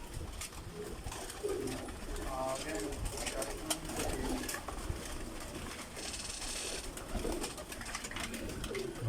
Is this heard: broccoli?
no